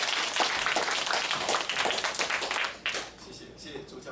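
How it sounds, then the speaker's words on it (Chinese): An audience at a weekend hands-on science event for adults and children claps to welcome a teacher, a dense wash of applause that thins out after about three seconds. "来，掌声欢迎古老师。"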